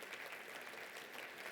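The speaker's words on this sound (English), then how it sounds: "Round of applause." An audience at a regional conference claps steadily, a dense, even wash of applause lasting a couple of seconds with no voices over it.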